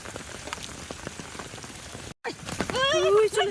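Heavy monsoon rain patters at night, a dense crackling hiss of drops on surfaces, broken by a brief cut, after which a voice speaks over the rain.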